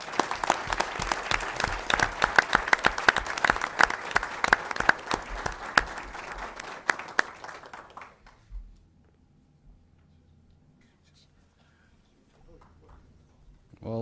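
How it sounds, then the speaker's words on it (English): School board meeting audience applauding steadily and loudly for about eight seconds, the clapping then stopping abruptly and leaving a quiet room with faint murmurs. "Give yourselves another round of applause"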